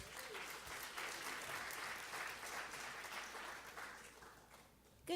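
A church congregation applauds a speaker coming to the stage, with even, moderately distant clapping from many hands that holds steady and then fades out near the end.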